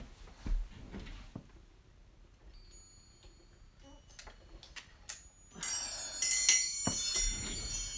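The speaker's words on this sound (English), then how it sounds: "And some chimes." Chimes ring out near the end, bright shimmering metallic tones clustered over the last few seconds, after quieter tapping and small handling sounds.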